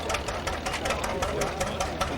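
An old engine at a rural heritage rally runs with a rapid, even knocking chug, steady and fairly close, a low rumble underneath the rhythmic beats.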